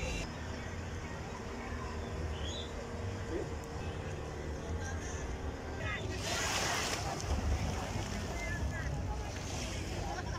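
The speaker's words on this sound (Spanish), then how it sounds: "Ahí vienen alando la lancha que había naufragado hace un momento" A motorboat tows a wrecked boat near Taboga beach, its engine rumbling steadily under heavy wind noise and surf, with voices faintly audible.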